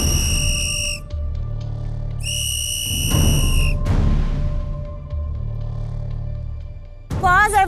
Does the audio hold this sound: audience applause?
no